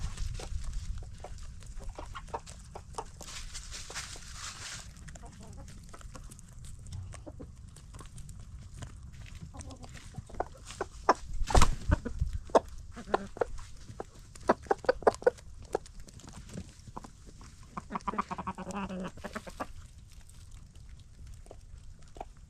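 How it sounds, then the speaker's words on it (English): Chickens cluck softly and scratch around nearby, with scattered clicks and taps over a low steady background hum. "I had to give the chickens a little something to eat there."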